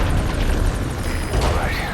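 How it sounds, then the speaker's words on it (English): A helicopter touching down in the video game Metal Gear Solid V: The Phantom Pain, a loud, dense rotor and engine roar with rushing wind that fills the whole stretch, a brief whine cutting through midway. "the chopper's touching down"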